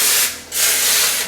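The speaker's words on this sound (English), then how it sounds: "Just lightly spray it." Cooking spray misted onto a cake pan in two close, loud hissing bursts with a brief pause between them.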